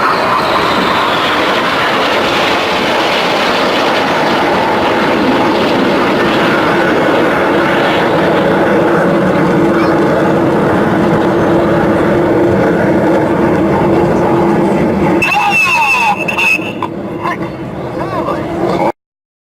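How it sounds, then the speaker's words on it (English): An aerobatic aircraft flies a corkscrew manoeuvre at a seaside air show, a loud, broad roar that sweeps past and fades near the end, with crowd noise and people talking. "ready for Jippo to come through for their next manoeuvre. In the corkscrew"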